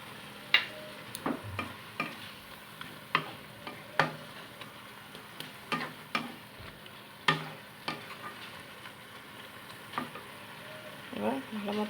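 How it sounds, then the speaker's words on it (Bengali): Wilted red greens being stir-fried with tamarind pulp over a low flame, a soft sizzle broken by regular scraping and knocking of a spatula against the pan roughly every second, close and quiet, with no talking. "এবার ভালো মতো কষিয়ে নেবো শাকটা তেঁতুলের পাল্প দিয়ে।"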